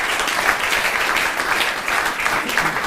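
A seated audience at a talk gives a brisk, loud round of applause, many hands clapping densely and evenly for a few seconds.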